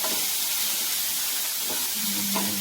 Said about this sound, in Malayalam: സവാള സവാള ഇട്ട് നമുക്ക് വഴറ്റാം